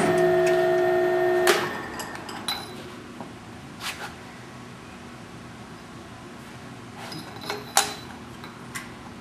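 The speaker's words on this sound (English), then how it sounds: "Tapping probably about 3/8 to a half inch deep." A drill press with a multiple spindle tapping head runs, cutting threads about three eighths to half an inch deep. A tonal whine stops early, followed by scattered metallic clinks and ticks over a low steady machine hum.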